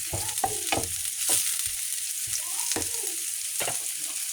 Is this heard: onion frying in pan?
yes